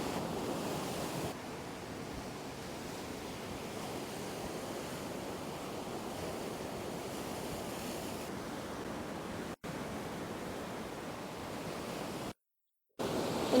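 Rough sea waves break along the shore at Collywell Bay, a constant broad roaring wash mixed with wind buffeting, loud and unbroken apart from two brief dropouts near the end.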